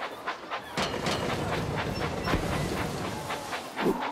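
A train engine runs along the track in a toy train video game, with a steady rhythmic clatter and hiss that stays loud and close throughout. No one talks.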